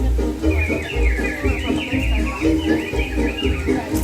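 Animatronic birds in Disneyland's Enchanted Tiki Room sing in chirpy, warbling song with many voices over a steady musical backing, continuous and fairly loud throughout.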